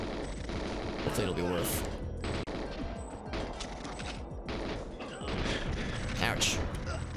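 GoldenEye first-person shooter gunfire, dense rapid bursts of shots and mechanical clatter running continuously and loudly, with someone briefly talking over the din.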